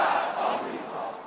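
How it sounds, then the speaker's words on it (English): A large crowd of Ahmadinejad supporters at a rally in Tehran's Freedom Square, a loud dense roar of chanting voices that is heard alone and eases slightly toward the end. "Today it was the turn of President Ahmadinejad supporters to fill Tehran's Freedom Square"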